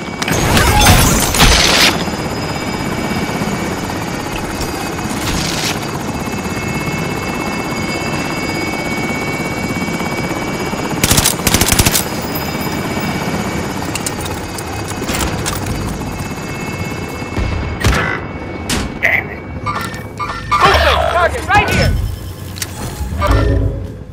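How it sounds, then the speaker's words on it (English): A military helicopter in Call of Duty: Modern Warfare roars loudly with continuous rotor and engine noise as it departs, broken by sharp bursts and crashes, with radio-style game voices speaking over it. "Helicopter is leaving the AO."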